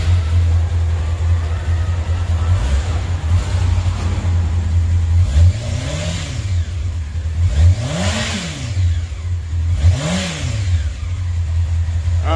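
A Honda CBR600RR motorcycle (1999–2002) on its stock exhaust idles steadily with a low drone, then gets three quick throttle blips that rise and fall in pitch, close and fairly loud.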